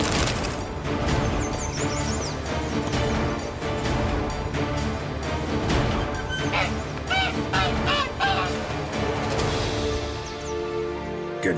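Goose honking in The Witcher 3, a few nasal honks and squawks from a caged goose laying a golden egg, heard over a busy, dense game soundscape with crashing clutter and no talk.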